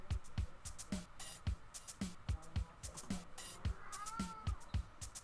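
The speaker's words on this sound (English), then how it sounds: "The cat is upsetty spaghetti about something. He's never this loud." A pet cat meows loudly and insistently, repeated yowls coming in a steady rhythm close by, with faint game sounds in the background.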